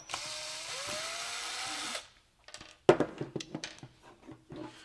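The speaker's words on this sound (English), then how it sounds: "you've got to remove those 4 stainless steel screws" A stainless steel screw is backed out of an Oase Optimax return pump by a power driver that whirs steadily for about two seconds, then a lull, followed by close metallic clinks and rattles of loose parts.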